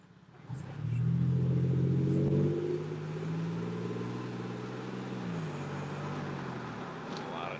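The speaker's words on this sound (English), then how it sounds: "A lot of traffic out." Road traffic heard from inside a moving car on a drive, a low engine rumble rising as it accelerates, then settling into a steady hum with broadband road and tire noise throughout.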